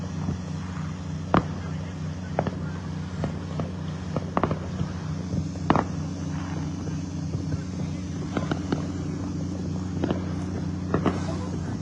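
Scattered distant pops and bangs of Fourth of July fireworks in Pueblo, Colorado go off at irregular intervals over a steady low engine rumble and wind.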